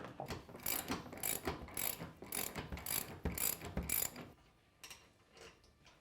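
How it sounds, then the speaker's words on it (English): A 15mm socket on a ratchet wrench removes the A-pillar bolts of a Can-Am Commander UTV, with rapid, steady ratcheting clicks close up for about four seconds before it falls quiet. "we're using a 15mm socket and wrench to remove the A-pillar bolts"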